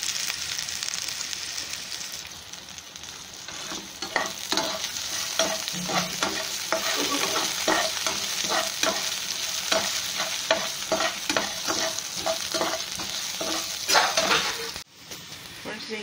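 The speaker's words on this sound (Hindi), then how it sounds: "प्याज के साथ साथ ही आप लहसुन डालते रहेंगे इसको बीच बीच में चलाते रहेंगे और गोल्डन ब्राउन होने तक इसको पकाना है" Chopped onion and garlic fry in a pan as a spoon stirs them again and again. A steady sizzle runs under repeated scraping strokes, with a brief clatter near the end and no talking.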